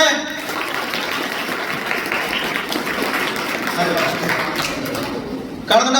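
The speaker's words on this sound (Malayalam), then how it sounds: "ഒരു കൈയടി കൊടുത്തേ" Classroom of students at an anti-addiction awareness session gives a round of applause, a dense, steady crackle of clapping lasting several seconds before ending abruptly.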